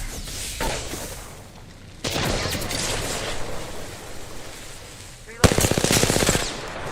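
Automatic weapon fire in the battle royale game Apex Legends, with bursts of loud rapid rattling shots, the sharpest volley near the end, mixed with in-game effects.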